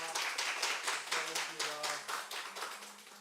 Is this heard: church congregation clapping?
yes